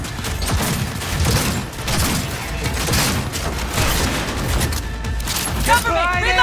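Dense exchange of gunfire in Cyberpunk 2077, bursts of shots and booms rolling continuously under shouted voices, with a mechanical clatter near the end.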